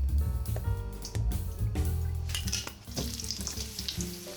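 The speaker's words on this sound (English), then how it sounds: "Heat up some olive oil in your pan." Olive oil heating in a pan for a traditional-style vegan dish, giving a steady close frying sizzle with scattered crackles and light clinks of utensils throughout, with no talking.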